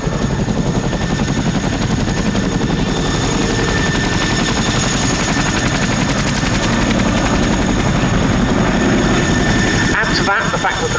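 A Fairey Swordfish biplane flies a tight-turning display at the Cosford Air Show 2025, its radial engine a loud, continuous rough drone that holds steady throughout.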